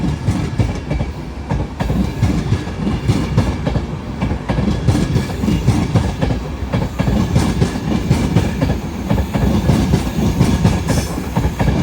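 A train runs through Doncaster station on the East Coast Main Line, a loud, steady rumble with continuous clickety-clack of wheels over rail joints and faint squeals, close by and sustained.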